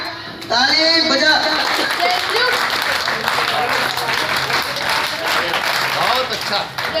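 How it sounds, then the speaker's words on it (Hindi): Scouts clap their hands at a Republic Day celebration at a mosque in Mustafabad, Delhi: a sudden burst of group clapping that holds steady, mixed with crowd voices and shouting throughout. "सिर्फ स्कॉट वाले ताली बजाएंगे, हाथ ऊपर, ताली बजा।"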